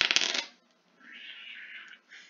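A single die rolled on a table rattles sharply for about half a second, followed by a softer, fainter rolling hiss that fades out.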